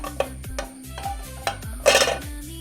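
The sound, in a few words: lid placed on a cooking pot of raw papaya thoran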